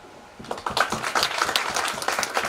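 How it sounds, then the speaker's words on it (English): An audience at the Kathmandu Dialogue closing ceremony breaks into a round of applause after a quiet moment, moderate and steady clapping from a crowd in a hall. "I would like to give a huge round of applause"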